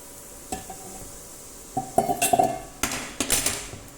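Metal spoon stirring and scraping milk into roasted urad dal flour in a pan, a few close clinks and scrapes in short bursts with a quiet background between.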